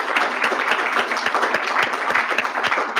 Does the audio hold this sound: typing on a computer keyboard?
no